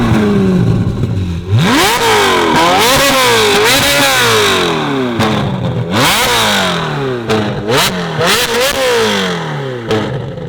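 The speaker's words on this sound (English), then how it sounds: "there's nothing that quite sounds like an NA Ferrari" A naturally aspirated Ferrari 458 fitted with an Akrapovic exhaust revs hard and accelerates, loud and close. Its pitch climbs and falls in repeated high, wailing sweeps with brief dips between pulls.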